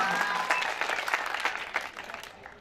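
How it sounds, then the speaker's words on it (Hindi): Audience claps loudly at a village cricket match after a league game, a burst of steady applause that gradually thins and fades toward the end. "जोर से ताली होनी चाहिए"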